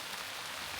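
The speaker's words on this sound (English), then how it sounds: "it's still raining" Rain falling steadily on a backpacking walk along the Yorkshire Wolds Way, a dense even hiss of drops close around, with no other sound.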